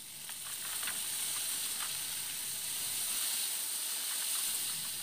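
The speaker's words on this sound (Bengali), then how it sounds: "এখন এই মশলার মধ্যে পুরো বাঁধাকপিটা দিয়ে দেব।" Drained boiled cabbage hits a frying spice paste for a Bengali vegetarian cabbage curry, giving a soft, steady hiss and sizzle that holds evenly throughout at low volume.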